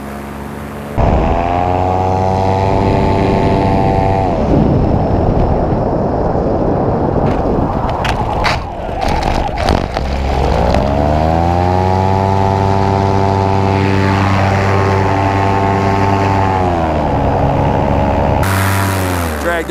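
A 2018 paramotor air trike's propeller engine roars at full throttle for takeoff, a loud steady drone with rising and falling pitch as it revs, while a man calls out over it and the motor runs continuously close by.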